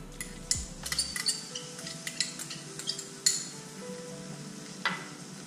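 Shallots frying in a steak pan, a soft steady sizzle under repeated light scraping and clinking of a utensil against the pan, close and quiet with no talk.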